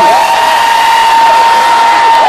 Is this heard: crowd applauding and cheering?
yes